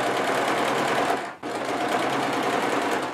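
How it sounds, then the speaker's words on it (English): Sewing machine running steadily close up as it stitches the front of a chemise, made from bedding, to its sleeves; a brief stop midway, then the fast needle rattle resumes. "I'm now sewing the front part of the chemise to the sleeves."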